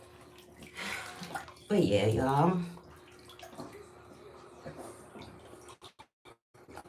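Bathwater sloshes and splashes briefly as a person shifts in a filled bathtub, a short burst under and between casual talk from the bather.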